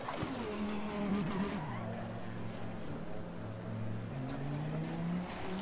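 A V10 race car engine in a racing video game drones steadily at high revs, its pitch stepping down and climbing again through gear changes, loud and continuous with a brief tyre squeal near the end.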